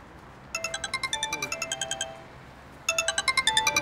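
Telephone ringtone playing a bright, repeating electronic melody in two bursts with a short gap between them, clear and close, heard without talking.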